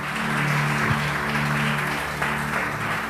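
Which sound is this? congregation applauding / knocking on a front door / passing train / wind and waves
congregation applauding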